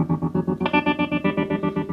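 Guitar played through a Line 6 M9 effects unit with chorus and distortion, a fast rhythmic pulsing pattern of repeated chord stabs, close and steady with no talking.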